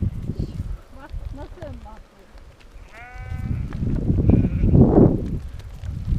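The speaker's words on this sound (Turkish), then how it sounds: "Her taraf koyun." A flock of sheep bleats all around, with several short, wavering calls overlapping near and far. There is rustling and movement through the flock, and people talk over it.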